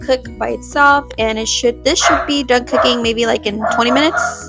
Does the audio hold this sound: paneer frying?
no